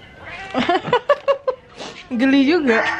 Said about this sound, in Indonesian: sibuk dengan si kucing ngeong-ngeong